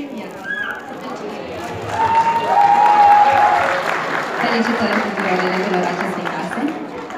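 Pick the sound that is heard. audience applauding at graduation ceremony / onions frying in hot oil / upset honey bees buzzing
audience applauding at graduation ceremony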